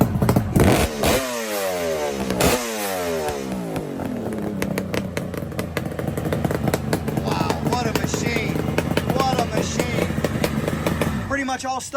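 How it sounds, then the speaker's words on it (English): A two-stroke motorcycle with an aftermarket exhaust revs hard a couple of times with rising and falling whines, then settles into a steady, loud, rattling idle close by. "Let's hear that sweet throttle."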